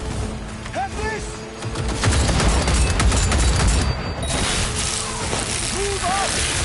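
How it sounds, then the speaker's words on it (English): Gunfire in Cyberpunk 2077 erupts as a loud sustained fusillade of rapid shots in the middle of the clip, with combat shouts and voices around it. "Firing at close range!"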